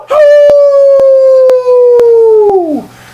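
A man imitates a wolf howl with his voice: one long, loud, sustained howl that holds steady, then bends downward and trails off at the end.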